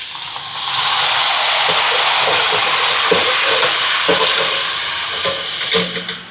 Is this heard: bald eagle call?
no